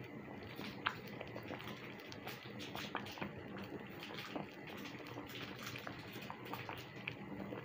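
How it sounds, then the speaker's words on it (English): A pot of ogbonor and okra soup boiling on the stove, giving a steady faint bubbling and simmering hiss with small pops throughout, no voices. "I'll also allow this to boil"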